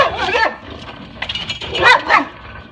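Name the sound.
dog barking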